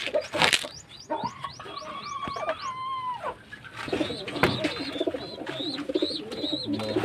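Racing pigeons being checked before loading for a training release give soft rising coos and chirps, fairly close, over a busy outdoor background with other birds calling.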